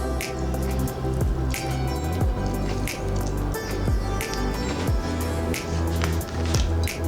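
Lemon juice is squeezed for a summer barley salad, with wet squelching and dripping sounds coming up close in uneven bursts over a low rumbling background and no talking.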